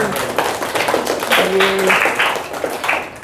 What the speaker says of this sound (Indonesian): beri tepuk tangan untuk semua kelompok yang gabung